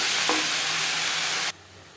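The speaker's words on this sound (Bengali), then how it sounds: "লঙ্কা ও জিরের সাথে সব ভালো করে মিক্স করে দেবো" Radish greens being stirred with chili and cumin in a hot pan, a steady close sizzle and frying hiss with scraping stir strokes, cutting off abruptly near the end.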